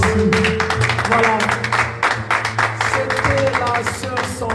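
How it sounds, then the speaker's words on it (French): Audience on a TV set claps briskly, a dense patter of hands close by, with voices speaking over and through it. "Est-ce qu'on peut applaudir, s'il vous plaît?"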